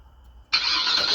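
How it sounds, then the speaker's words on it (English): A Suzuki SX4 fired up with a remote starter: a quiet moment, then the engine catches abruptly and settles into a steady, close running hum. "even the remote also have that sound, engine starting"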